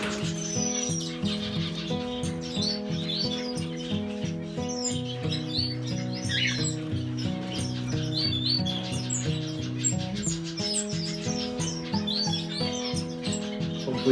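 Blue-faced parrot finches give scattered high, thin chirps and tweets that sit quietly above steady background music.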